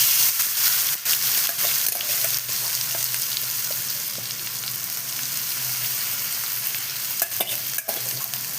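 Elephant foot yam frying in oil with fennel seeds, a steady close sizzle with stirring scrapes throughout, no voices.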